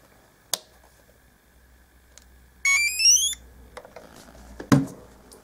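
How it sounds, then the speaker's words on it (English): A TBS mini multifunction sound card in an RC model powers up with a short rising sequence of electronic beep tones, clear and close. Isolated clicks and handling noises come before and after. "You can hear the beep, that's the sound unit saying it's awake"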